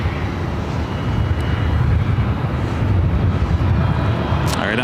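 Jet airliner departing LAX, a steady, loud broadband roar that holds without a break throughout, with a faint hiss of wind on the microphone.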